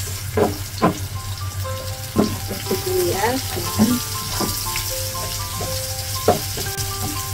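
Onion and garlic sautéing in a pan for ginataang tulingan, a steady close sizzle throughout with a few sharp stirring knocks, over faint tonal background sounds.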